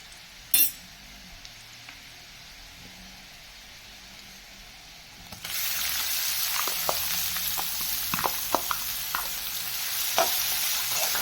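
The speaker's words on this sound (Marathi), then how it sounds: "कांदा देखील आपण रंग बदलेपर्यंत तेलावर परतून घेऊया" Onion goes into hot oil with browned garlic, and a sharp metallic tap at the start is followed by quiet, then a sudden loud sizzle that keeps going with scattered clinks of a stirring spoon.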